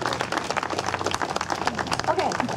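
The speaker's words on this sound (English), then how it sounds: "How about just a round of applause for all three of our speakers?" Audience at a climate march rally clapping for the speakers, dense applause mixed with crowd noise and overlapping voices throughout.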